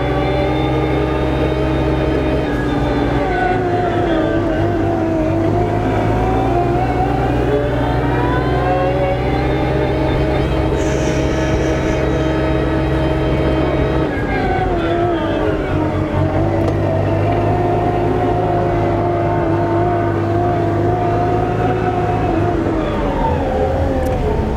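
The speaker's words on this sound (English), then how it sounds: "that's a little bit of the Kubota R430 wheel loader, a new small entry in Kubota's wheel loader line" A Kubota R430 compact wheel loader drives in high range on its two-range transmission, its engine a loud, steady drone that rises and falls in pitch as it travels.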